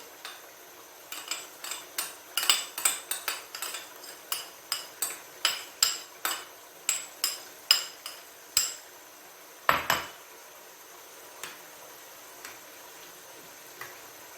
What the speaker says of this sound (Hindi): मैं जो मलाई है वो इसमें मिक्स करती हूँ दही में